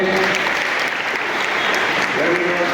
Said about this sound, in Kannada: ಇಲ್ಲಿ ಜೋರಾಗಿ ಒಂದು ಚಪ್ಪಾಳೆ ಬರಲಿ